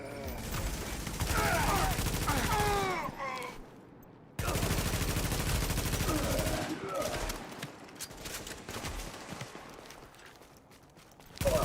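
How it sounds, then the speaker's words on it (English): Gunfire in the video game The Division 2, bursts of rapid automatic shots and single reports in close, loud stretches separated by brief gaps, with voices shouting over the fighting. "Why are you shooting me?"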